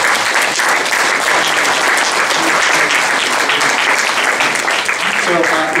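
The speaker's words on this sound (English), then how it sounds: "a round of applause" Audience at an interfaith leadership conference applauds the panelists of a US advocacy panel, a loud, dense and steady round of clapping throughout, with faint voices mixed in near the end.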